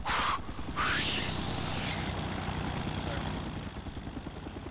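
A video-game spy plane drones overhead as a steady, engine-like hum with a throbbing pulse, preceded by brief bright whooshing bursts, fading slightly toward the end.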